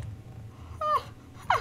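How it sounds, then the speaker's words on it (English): Dogs in a room give two short, sharp barks or yelps about half a second apart, against quiet background hum. "I'm gonna cut out the part with the dogs barking."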